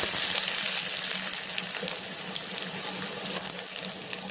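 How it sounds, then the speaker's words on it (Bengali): Chopped onions sizzle in hot oil in a wok, the first step toward potato chops; a steady, bright hiss runs evenly throughout with no voices. "কড়াই তেল গরম করে নিয়ে নিয়েছি কাটা পেঁয়াজ দিয়ে দিচ্ছি"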